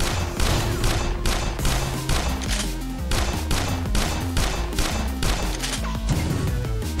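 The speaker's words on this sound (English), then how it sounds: "So for the automatic shotgun, just a higher fire rate" An automatic shotgun in the video game Choke Point fires rapidly, a dense, loud volley of booming blasts that blur into one continuous barrage with no pauses.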